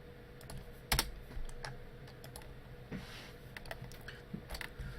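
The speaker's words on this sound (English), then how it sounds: "this is going to be quite a lot of typing here" Typing on a computer keyboard while entering code for a Minecraft 1.8.9 mod, with close, irregular clicks of keystrokes and a few louder taps, with no talk over it.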